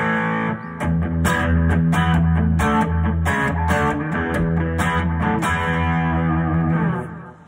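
A Tom Anderson T Classic electric guitar played through its bridge pickup with distorted, effects-laden tone, strummed chords ringing loud and sustained for several seconds before fading out at the end, no voices.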